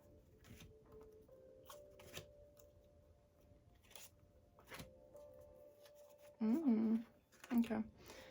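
Oracle cards are shuffled and handled for a pick-a-card reading, giving soft papery riffles and scrapes, with a brief louder burst toward the end where a voice may briefly sound.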